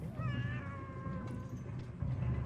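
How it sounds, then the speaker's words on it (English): Cats meow in a video game, several drawn-out, rising and falling meows close by over a low background hum, with no talking. "I'm trying, kitties."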